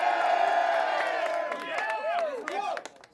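A rap battle crowd roars, cheers and whoops loudly in a packed venue, with voices shouting over sustained crowd noise that rises and swells before tapering off near the end.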